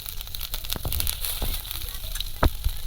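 Panch phoron spices crackle and sizzle in hot oil in a village kadai, a steady busy frying hiss with scattered sharp pops and one louder burst near the end.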